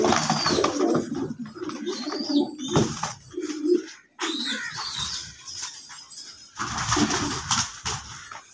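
Many pigeons, fighter and mukhi birds at a pigeon sale in Rawalpindi, coo and call close by in a dense flock, with occasional wing flaps and a brief pause midway.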